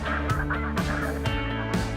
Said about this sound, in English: With the addition of the ducks and the Canadian geese, the sky above the decoy spread is alive with birds.